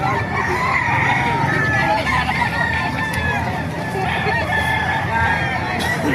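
A dense chorus of chickens clucking and roosters crowing at a gamefowl market in Calumpit, Bulacan, continuous and fairly loud, with overlapping calls near and far and faint voices mixed in.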